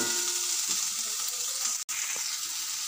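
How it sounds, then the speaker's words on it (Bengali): Bengali spices and ground cumin frying in hot oil in a pan for a thin rohu fish curry, a steady broad sizzle running throughout with a brief dropout near the middle. "এইবারে ভালো করে সব মশলাগুলো একসাথে কষিয়ে নেব"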